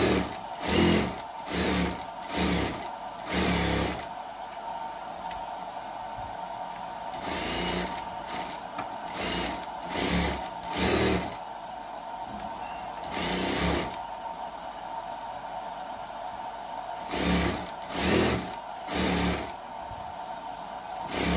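A sewing machine stitches a full 30-inch umbrella in loud bursts of rapid mechanical whirring that start and stop repeatedly, separated by quieter pauses, with no talking.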